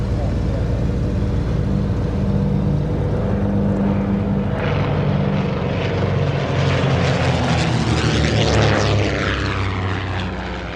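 Propeller aircraft, a Comet racing plane, drones loudly and steadily overhead with a rising pass toward the end, set against an open-air show crowd.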